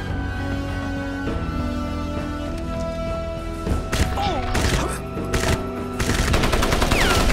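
Gunfire from Crysis crackles in rapid bursts over a steady game soundscape, growing busier and louder toward the end with several sharp impacts layered together.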